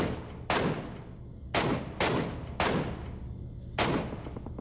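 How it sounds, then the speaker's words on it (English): Four sharp gunshots ring out in a battle royale video game, each about a second apart, with a burst of noise and a fading tail between them. "Someone's shooting over there."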